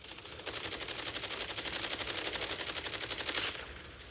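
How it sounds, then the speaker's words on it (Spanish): A sentry turret in Call of Duty Mobile's undead siege mode fires a fast, steady automatic burst lasting about three seconds, evenly rhythmic and fairly loud with no talk, then cuts off abruptly. "Me pusieron una torreta enfrente."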